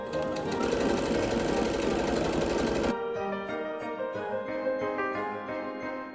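Sewing machine stitching buttonholes on a tweed outfit, a rapid, even mechanical chatter that runs loud and close, then drops to a softer, lighter stitching rhythm partway through.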